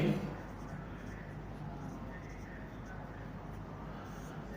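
Chalk or pen writing an equation during a maths lesson, a soft continuous scratching close by over a steady room hiss.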